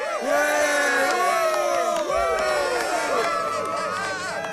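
A crowd cheers and whoops continuously at a lively outdoor gathering during a journey on Marco Polo's route, the roar of many voices loud and close, with harmonic shouts rising over the din throughout.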